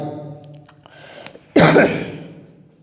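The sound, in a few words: cough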